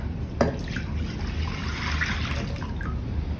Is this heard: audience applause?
no